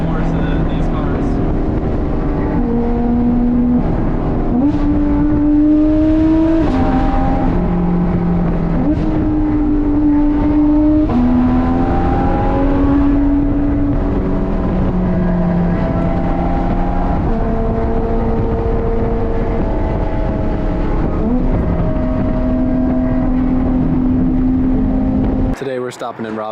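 A Porsche GT3 RS with a Dundon x Adam LZ 'Cats on Crack' exhaust roars loudly up Smoky Mountains switchbacks, its engine note repeatedly climbing and dropping through gear changes before cutting off abruptly at the end.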